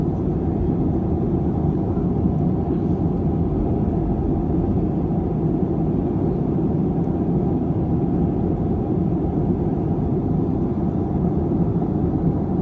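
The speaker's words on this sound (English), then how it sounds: "This Boeing 737 flying through some turbulence," A Boeing 737 flying through turbulence gives off a steady, heavy low roar of engine and airflow, unbroken and constant from start to finish with no voices.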